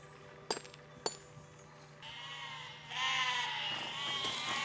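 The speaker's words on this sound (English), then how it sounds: "These sheep are gonna get it." Sheep bleat in the physics building game Besiege, two sharp clinks giving way to loud wavering cries that rise and overlap near the end, with no talking.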